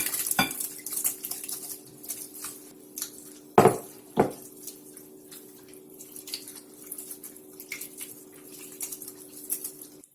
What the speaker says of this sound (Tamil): இப்ப இது கைய போட்டு பிசைற மாதிரி இருக்கும்.